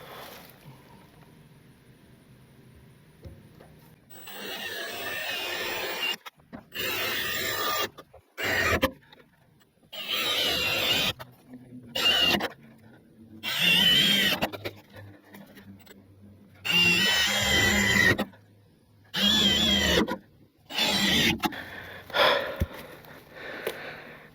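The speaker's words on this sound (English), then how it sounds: "1/4 inch drill bit, and go straight through the centre of each one of the holes" A power drill with a 1/4 inch bit whirs in repeated bursts of a few seconds each, drilling holes for a shipping container, separated by short pauses, close and loud with no talking.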